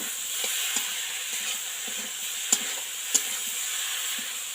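Raw jackfruit curry sautés in a pan with a bit of water, a soft steady sizzle under occasional clicks and a couple of sharper knocks from stirring, no speech.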